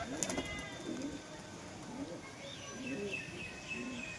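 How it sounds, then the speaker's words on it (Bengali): Pigeons coo softly at a loft while a bird is released to fly, low rounded calls repeating at a moderate distance over a steady outdoor background hiss. "আরেকটি কবুতর উড়িয়ে দিলাম"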